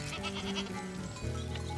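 Goats bleat on a goat farm in the Luberon, with a wavering nasal cry, then a second lower call after a short break, close by over faint outdoor background.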